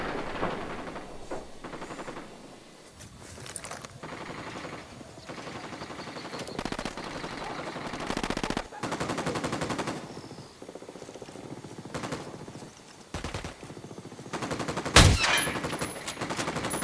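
Enemy gunfire in Ghost Recon Wildlands: sustained bursts of automatic rifle and machine-gun fire crackle back and forth for many seconds, near and far shots overlapping, with one sharp louder blast late on and no talk.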